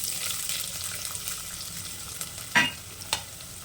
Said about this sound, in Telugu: ఇప్పుడు చిన్నగా కట్ చేసుకున్న ఆనియన్స్ని వేసుకోవాలి.